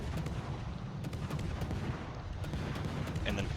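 Ship guns fire in World of Warships, a dense, booming barrage of repeated blasts over a constant roaring bed of battle noise, the shots arriving in quick irregular bursts.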